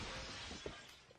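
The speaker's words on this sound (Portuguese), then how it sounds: "Quebrou o vidro" A glass window breaks in PUBG New State: one quick, faint shattering crack with a brief tinkle, set against a quiet background hiss.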